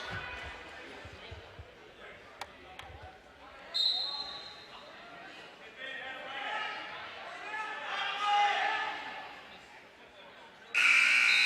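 An end-of-period buzzer sounds in a school gym at a high school wrestling match, a loud electronic blast near the end that cuts above crowd noise and an announcer's talk.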